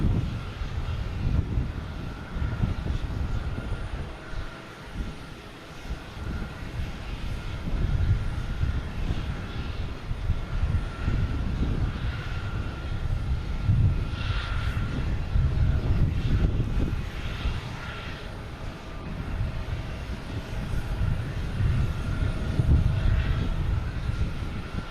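A JetBlue airliner's jet engines at Boston Logan Airport, a steady low roaring rumble at moderate distance that holds for the whole stretch with slight swells, mixed with some wind noise and no talking.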